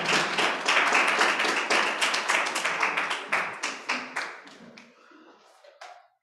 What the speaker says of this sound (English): Another round of applause for Tom.